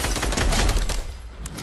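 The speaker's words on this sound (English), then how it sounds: "I'm shooting a tree." Rapid gunfire in Fortnite aimed at a tree, a dense burst of shots close and loud for a second or so before tailing off, with no talking.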